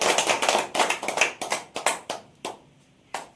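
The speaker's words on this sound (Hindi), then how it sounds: "ताली बजाएं।" An audience applauds at a felicitation ceremony in a temple hall: a dense burst of hand claps at first, then thinning to a few scattered, sharp claps before fading out.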